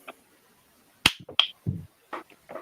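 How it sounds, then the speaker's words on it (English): A single sharp, close hand clap stands out against near silence, followed by a few short muffled knocks and faint sounds. "I clapped again"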